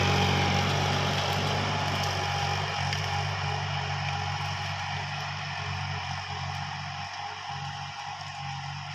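Engine of a tractor used for hire work, running steadily at a near, loud idle with a constant rumbling drone that eases slightly over nine seconds, no voices over it.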